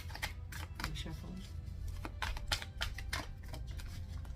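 Tarot cards being shuffled give rapid, close riffling and flicking clicks in uneven bursts over a low background rumble.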